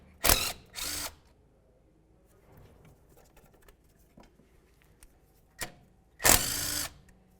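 A power tool spins off a 10mm bolt holding the ABS wire bracket on a 2002-2006 Honda CR-V front suspension, heard as several short loud whirring bursts separated by quiet pauses, close up with no talk.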